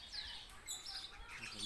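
King parrot calls in a short burst of bright chirps and tweets, moderately close, with faint voices murmuring underneath throughout.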